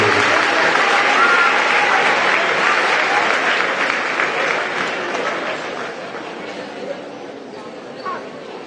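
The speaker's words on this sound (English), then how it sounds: "Let's give a round of applause to the cheerleaders in the class of 2023." Crowd applause for the class of 2023 cheerleaders, sustained clapping that gradually fades toward the end, with faint chatter underneath.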